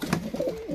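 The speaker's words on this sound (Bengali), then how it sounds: "ছোট ঠোঁটের পায়রা" Giribaz pigeons, a short-beaked pair, coo in soft, throaty, rolling notes that stay steady and close by throughout, with no other sounds.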